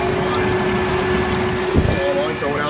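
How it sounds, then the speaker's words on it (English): A Walmart bilge pump runs inside a DIY portable cooler air conditioner built with motorcycle radiators, giving a steady close hum with water gurgling, and a brief knock near the end. "It's a bilge pump from Walmart."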